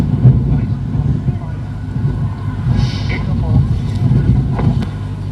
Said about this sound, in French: j'espère que vous allez m'entendre parce qu'il y a des bourrasques là